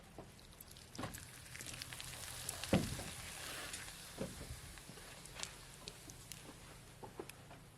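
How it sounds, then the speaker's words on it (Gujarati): Rice papad fries in hot oil in a village kitchen, a soft steady sizzle and crackle with scattered sharp pops and the occasional clatter of a utensil, heard close and without talk. "તેલ આવી ગયું છે, આપણે પાપડ તળ નાખીએ."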